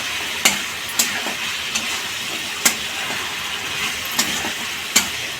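Spices fry in oil for a cabbage curry, a steady bright sizzle broken by half a dozen sharp scraping clicks as a spoon stirs the pan, with no talking.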